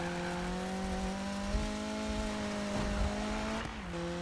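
A Mazda Miata drifts in the Need for Speed 2015 racing game, its engine holding a steady high drone with harmonic tones that shift slightly, loud and continuous throughout.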